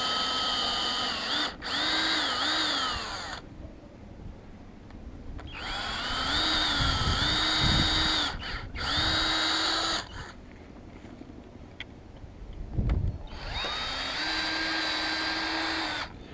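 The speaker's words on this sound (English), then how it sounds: "I'm using a 3/16 inch drill bit to start the pilot hole." A power drill with a 3/16 inch bit whines in several bursts while drilling pilot holes for gate hinges in wood, each a few seconds long with pitch rising and falling as it bites, separated by short pauses, close up.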